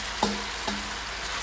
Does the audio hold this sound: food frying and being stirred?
yes